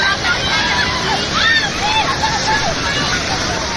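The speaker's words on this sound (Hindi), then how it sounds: "पानी का प्रचंड प्रहार, जिंदगी हो गई बेबस और लाचार।" A fierce monsoon torrent rushes at Lonavala, a loud, constant roar of churning water that fills the whole stretch, with a crowd's shouts and voices carrying over it.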